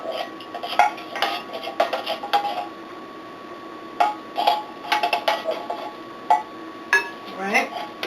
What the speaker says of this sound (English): we're going to mix this in with the cheese mixture